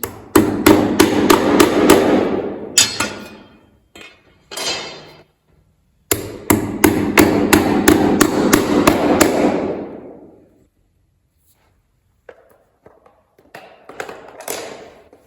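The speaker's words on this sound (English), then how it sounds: "I'm gonna go ahead and hammer these prongs down to hold the bracket in place." Rapid, loud hammer blows bend down metal bracket prongs in a barndominium floor system, two long bursts of steady rhythm separated by a pause, then a few faint taps and clanks.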